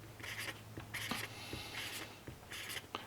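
Pen or pencil writing probabilities on paper, quick scratchy strokes in short bursts with brief taps between them, close and clear against a faint background hum.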